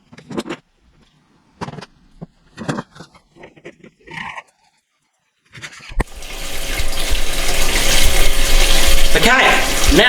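Water from a small battery-powered pump rushes steadily into a homemade live bait tank in an esky, a continuous near pouring hiss that starts partway through after someone speaks briefly.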